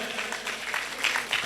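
An audience at a Hindu religious gathering of saints claps, a steady, dense wash of hands clapping that holds throughout with a few louder swells.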